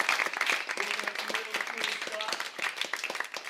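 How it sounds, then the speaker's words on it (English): An audience at an Amazon Music-hosted instrument event claps for the Amazon Music team. The applause is moderate and scattered, with voices and cheering mixed through it. "can we get a quick round of applause for the Amazon Music team?"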